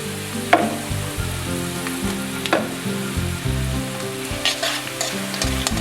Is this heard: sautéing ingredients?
yes